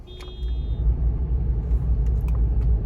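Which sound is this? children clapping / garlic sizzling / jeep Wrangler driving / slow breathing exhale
jeep Wrangler driving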